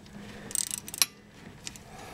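A wrench tightens the brake bleeder valves on a Corvette, giving a quick burst of metallic ratcheting clicks followed by a single faint click, close and fairly quiet.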